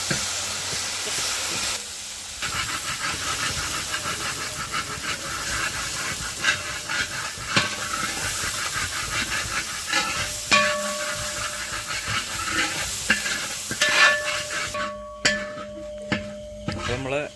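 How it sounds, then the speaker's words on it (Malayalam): Onion masala for karimeen, with tomato sauce added, sautés in a pan over a low flame. It gives a continuous hissing sizzle broken by sharp clinks and scrapes of stirring, with a quieter stretch near the end. "നന്നായി ഒന്നത് ചെറിയ തീയിൽ നമ്മളിങ്ങനെ വാട്ടിയെടുക്കുകയാണ്."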